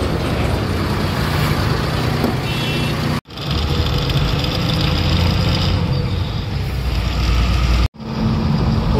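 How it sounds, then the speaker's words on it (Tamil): A loaded truck drives along a road with a stone lodged in one tyre; its engine and road noise drone loud and continuous, broken by two brief dropouts. "எங்கேயே டயரில் ஒரு கல் இருக்குது, டபு டப்புன்னு சவுண்டு போட்டுன்னு வருது"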